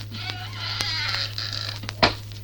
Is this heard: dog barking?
no